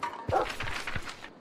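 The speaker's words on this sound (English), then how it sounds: "I always hear a dog, but I never know why." Dog barking in the video game Final Station, a few sharp close barks in quick succession, loud and isolated with no talk over them.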